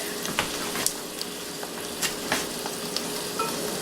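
Bacon jam sizzling in a pan with garlic, a steady frying hiss broken by soft scraping stirs and small pops, close and fairly quiet.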